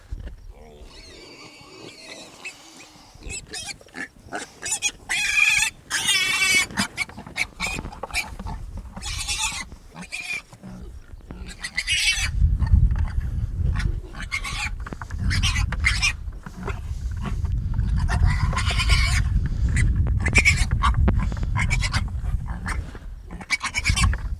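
Hogs trapped in a pen before castration squeal, grunt and snort in a loud, dense chorus that grows heavier and lower in the second half, with a voice speaking briefly near the start.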